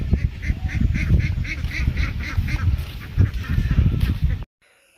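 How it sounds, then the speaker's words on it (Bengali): Ducks on a fish pond quack and honk in a loud, close, rapid chorus of repeated calls that runs unbroken for several seconds before stopping suddenly. "সবচেয়ে বেশি মজা হয়েছে হাঁসগুলোর"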